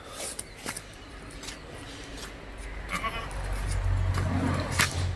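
A dairy goat kept for milk bleats close by, a few short cries over a rustling, rubbing background that grows into a louder low rumble toward the end.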